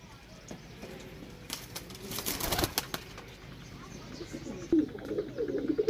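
Pigeons, sold as Rampuri birds, coo at close range with some wing flapping and chirps amid steady background noise.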